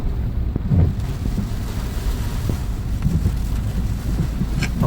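Strong floodwater rushing during the Cumbrian floods on the A66, a steady loud roar of churning water mixed with wind buffeting the microphone, continuous and close.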